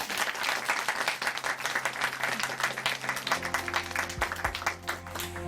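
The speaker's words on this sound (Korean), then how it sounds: "다시 한번 큰 박수 보내드리겠습니다." Audience applause closes a Christian testimony program from a church in Chuncheon, with steady, dense clapping throughout and soft music fading in beneath it during the second half.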